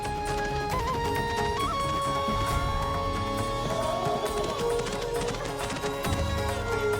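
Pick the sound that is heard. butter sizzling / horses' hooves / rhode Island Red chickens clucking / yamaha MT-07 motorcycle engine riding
horses' hooves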